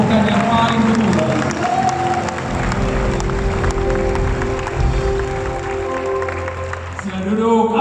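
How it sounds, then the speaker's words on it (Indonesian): A church congregation in Semarang claps together in praise of God during a worship service, a loud sustained burst of clapping mixed with crowd voices and some underlying sound. "Beri tepukan kemuliaan bagi Tuhan."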